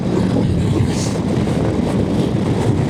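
Heavy wind buffets the microphone on a moving motorcycle throughout, a constant low rumbling roar with no voices.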